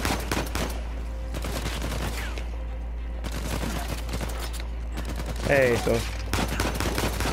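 Gunfire in the video game Uncharted 4 comes as repeated sharp bursts of shots in irregular clusters over a constant low hum, while a voice briefly speaks between the volleys.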